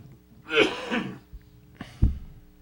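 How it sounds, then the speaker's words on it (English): A single throaty, mucus-laden cough from a man recovering from a cough, followed by a second shorter cough and a low grunt, close and clear against a quiet background. "As I'm getting over this cough, the mucus comes up"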